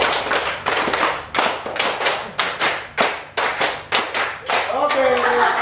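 A biology classroom group performs a rhythmic clapping pattern, sharp unison claps in repeated clustered bursts, loud and close, ending with voices and cheering as the sequence finishes.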